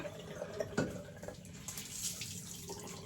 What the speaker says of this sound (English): let me just rinse my hands a bit